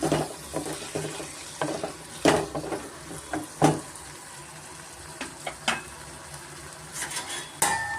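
Potatoes and onions fry in a pan over a medium flame, a steady soft sizzle broken by repeated scraping and clinking stirs against the metal, close and alone with no voices.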